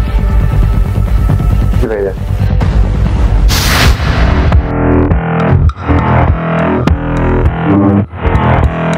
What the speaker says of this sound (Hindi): साला गुडवा ने एक बम क्या मारा, सारे के सारे धुन दबा के भाग गए।